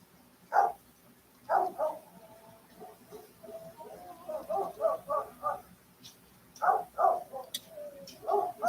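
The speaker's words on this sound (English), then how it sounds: "my dogs are doing their job outside." Dogs bark outside in separate short bursts and clustered runs of yaps, at moderate distance, with quiet gaps between the volleys.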